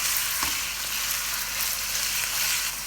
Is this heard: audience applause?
no